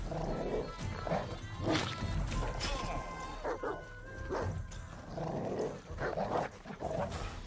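Dogs in the video game Gothic bark and yip repeatedly in short, irregular bursts, fairly close, with some faint voice in the background.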